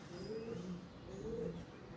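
Andhra pigeons coo in a steady, soft, low warble, two drawn-out phrases rising and falling close by, with faint chirps over a constant background hum.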